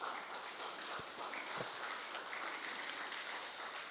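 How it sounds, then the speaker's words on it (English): Faint, distant applause from a lecture audience, a soft steady patter of clapping with a few sharper claps standing out. "Please, once again, a round of applause."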